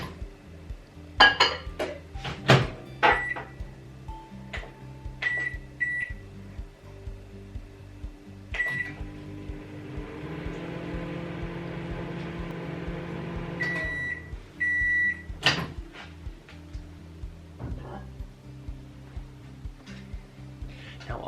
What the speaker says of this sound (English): you want to pop it in the microwave for around about 1 minute and 20